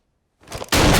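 A single sharp gunshot goes off in a Western film scene, a loud, abrupt blast that follows a brief rising rustle and then holds as a dense, roaring burst to the end.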